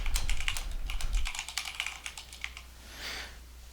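Quick, close keystrokes rattle on a computer keyboard in a rapid, uneven burst that thins out toward the end, with no voices.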